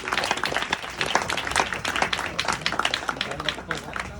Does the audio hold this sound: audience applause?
yes